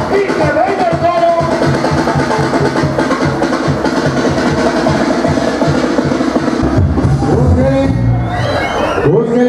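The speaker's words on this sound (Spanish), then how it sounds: "Que se oiga el aplauso" Loud, dense crowd noise fills a bull riding arena, with whoops and shouts rising over continuous cheering and a busier surge near the end; some voices carry through.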